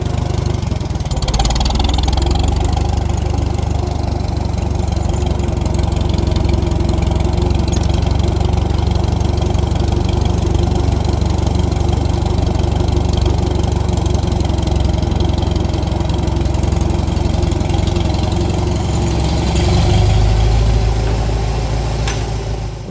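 Old tractor that sat parked for years runs with a steady, rough low chug close by, continuous throughout with a brief change near the end, no talking.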